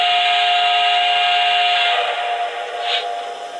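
A Lionel Heisler model steam engine's whistle blows as one loud, continuous, close-up tone for about three and a half seconds, with hissing steam in it, wavering slightly toward the end.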